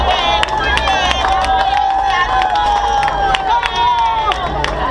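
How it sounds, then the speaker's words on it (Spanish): Spectators clap and a crowd murmurs at the finish line of a McDonald's 5K race in Montevideo. A loud announcer-style voice talks over the scattered claps. "Tienen que aplaudir ellas porque no hay nadie que las aplauda en la llegada."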